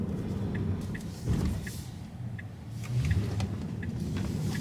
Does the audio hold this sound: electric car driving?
yes